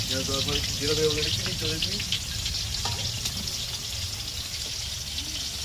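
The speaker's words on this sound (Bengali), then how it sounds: "পেঁয়াজটা একটু ভালো করে ফ্রাই করে নিচ্ছে।" Onions fry in a pan with salt added, giving a continuous sizzle with some stirring; a voice is briefly audible early on before the frying carries on alone.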